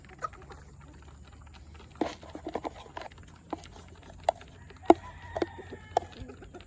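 Scattered soft clucks from free-range Orpington chickens, sporadic and moderately near, over a faint steady background hum with occasional light rustling.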